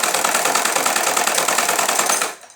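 A sewing machine runs in a fast, steady stitching rhythm while joining the seat seam of a belted salwar, close and loud, then winds down and stops at the end.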